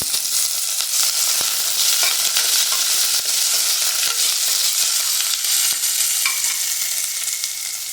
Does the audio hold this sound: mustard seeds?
yes